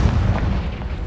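Confringo fire spell blast in Hogwarts Legacy, a loud, dense low boom with a rumbling burst that fills about a second without pause.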